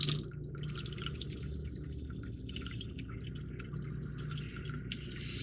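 Tap water runs and trickles close by while small plastic parts from a 1:48 scale Panavia Tornado model kit are rinsed, a steady low wash with light drips and one sharp splash near the end, and no voices.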